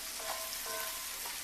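Smoked paprika and cilantro sizzle in a hot pan as they are stirred, a loud steady frying hiss with a few soft scraping strokes and no voices.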